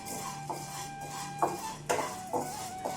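Toor dal dry roasting in a pan, with a faint dry rustle underneath a few separate clinks of a metal spoon scraping and knocking against the pan.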